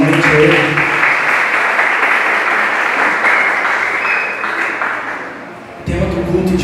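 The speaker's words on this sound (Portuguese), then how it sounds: "Vamos aplaudir mais uma vez, novamente a Ele." Church congregation applauding loudly and steadily together during a service, the clapping fading slightly before a voice speaks near the end.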